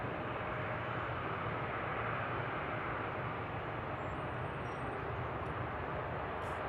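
An airplane at Seattle-Tacoma airport produces a continuous, even engine roar that stays loud and steady from start to finish, with no talking.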